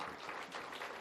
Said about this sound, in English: give the President a clap of honor as he steps onto the podium